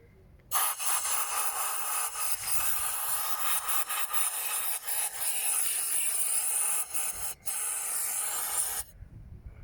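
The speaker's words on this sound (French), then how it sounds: "Quand vous faites le coup de soufflette, vous restez comme ça" Compressed air blow gun blasting grime out of car injector wells, a loud, close, continuous hiss lasting about eight seconds with brief stutters and dips, then cutting off abruptly.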